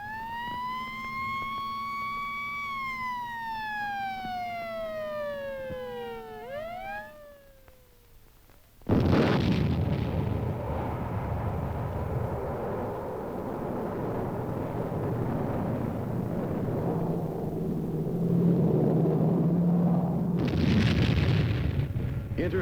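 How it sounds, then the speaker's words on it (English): A siren wails with falling tones before a guided missile launches in a sudden loud roaring blast, its rumbling rocket noise rolling on steadily for many seconds, with another burst near the end and no voices. "Intercept accomplished by guided missiles."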